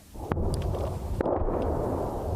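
Artillery shelling near Vuhledar in wartime Ukraine, a couple of sharp distant blasts over a steady rumbling background, with no talk.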